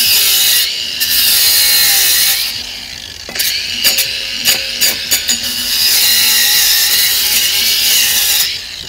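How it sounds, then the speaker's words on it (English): Flap disc grinding down the sharp cut edge inside a fire extinguisher being made into a gong, a loud continuous abrasive grinding with a few short breaks and scraping bursts partway through. "just use a flap disc and take that sharp edge off"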